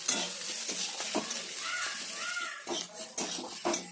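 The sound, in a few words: potatoes stirred and fried in a pan with ginger and spices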